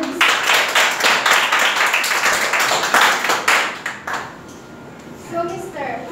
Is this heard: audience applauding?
yes